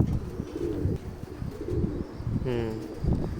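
Low pigeon coos repeat close by, with a brief higher call near the end and murmured voices in the background.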